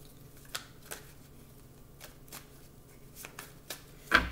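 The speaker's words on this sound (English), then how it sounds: "let me shuffle up a little bit more." A tarot card deck is shuffled in short riffling bursts, several crisp flutters spaced a little apart, close and fairly quiet with no talk.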